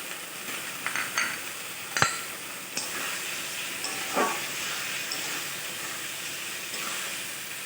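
Marinated goat liver drops into a pan of frying spice paste, giving a steady close sizzle and hiss with scattered sharp clinks and scraping stirs, and no voices.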